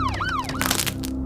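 Police car siren wailing with a rising and falling sweep, close and loud, and a brief crackling burst near the end.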